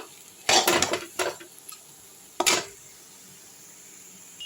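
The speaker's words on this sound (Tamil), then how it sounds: "முருங்கை பொடியை நல்லா கிண்டிப்போம்" A potato fry dusted with drumstick powder stirred in a pan, two clattering bursts of spoon scraping against metal separated by a quiet pause, with faint sizzle underneath and no speech.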